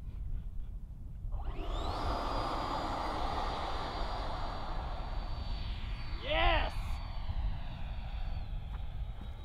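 A Freewing F-22 RC jet with a 90mm electric ducted fan spools up to a loud, steady high-pitched whine for a short-field takeoff, holding strong and near for several seconds as it roars away.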